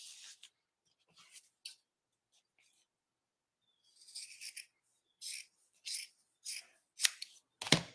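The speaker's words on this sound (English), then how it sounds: "we have our sleeve, and we're going to cut this in half." Scissors snip through a knit sweater sleeve, cutting it in half: a few soft isolated snips early, then a quiet pause, then a run of crisp, close cutting strokes in quick succession, each a short burst of rasping fabric.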